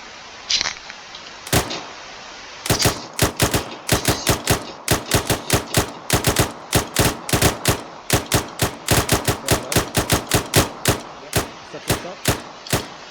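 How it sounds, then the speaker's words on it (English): A section of rifles fires rapidly in military training, dozens of loud, sharp cracks in an irregular, overlapping stream from start to finish. "Section, rapid fire,"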